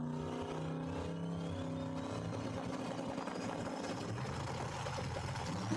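Copper 1966 Chevelle on a dragstrip, engine rumbling and sputtering at a steady loud level, rising whine overhead as the car pulls away down the track.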